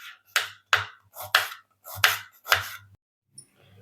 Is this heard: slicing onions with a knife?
yes